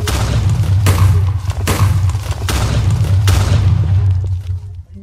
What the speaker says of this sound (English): We're going to drop a stack of TNT.